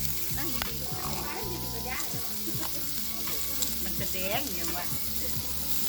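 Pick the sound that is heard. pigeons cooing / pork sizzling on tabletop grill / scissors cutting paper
pork sizzling on tabletop grill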